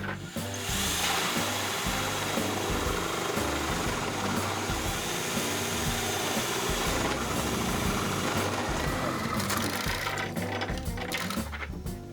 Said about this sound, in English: Now I'm back upstairs drilling the holes for the water supply lines.